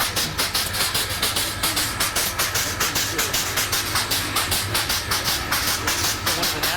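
The Big Boy 4014 steam locomotive hisses steadily and loudly at a station stop in Sterling. A fast, regular rhythmic chuffing pulse runs through a dense wash of steam noise.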